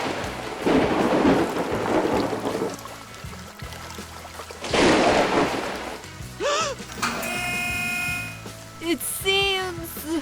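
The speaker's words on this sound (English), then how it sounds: "Oh no! It's raining now." Rain falls with heavy rumbling thunder in two loud bursts, followed by quieter patter under cartoonish sound effects and tones.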